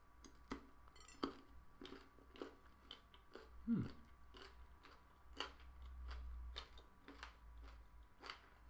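Quiet close-up crunching and chewing of a Marks & Spencer The Crazy One chocolate bar packed with crunchy butterscotch pieces, crispy bits and popping candy, with sharp irregular crackles over several seconds and no talking.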